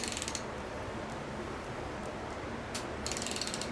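A ratchet fitted with a deep socket clicks in short rapid bursts at the start and again near the end while torquing bolts on a rebuilt Toyota 5S-FE 2.2-liter engine, close and fairly quiet, with a steady background hum between.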